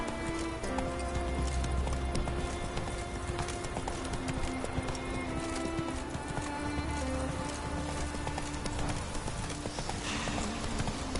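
Hooves of Roach, Geralt's horse in The Witcher 3, clip-clopping in a steady trot, loud and close over a constant musical game background.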